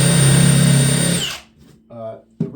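Power drill driving screws into a homemade deck post anchor, a loud close high whine that winds down after about a second and a half, followed by someone talking.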